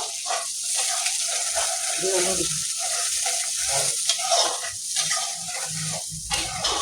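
Chopped onions frying in a pan for a home-style Bengali mutton curry, a steady sizzle running throughout with occasional stirring scrapes, while a voice talks over it.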